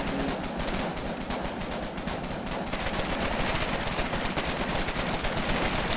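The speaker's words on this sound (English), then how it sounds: "I missed all of my shots." Rapid, dense gunfire from the Foxhole war game, machine-gun bursts and rifle shots crackling continuously for several seconds in a trench battle, loud and close with distant fire layered behind.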